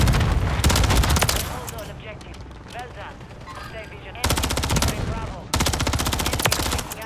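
Rival 9 submachine gun firing in Modern Warfare III, loud rapid automatic bursts in close succession separated by short gaps, with someone speaking during the quieter stretch.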